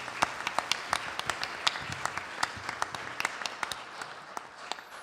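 Scattered applause at an engagement ceremony: individual claps land sharply and irregularly over a soft bed of lighter clapping, moderately loud and close.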